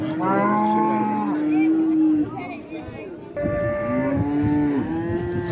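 A calf and cows at a livestock market let out loud, drawn-out moos, several in a row, some rising and falling in pitch. Nearby crowd chatter and people talking continue underneath.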